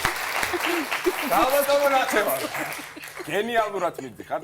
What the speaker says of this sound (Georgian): ჩვენია აპლოდისმენტები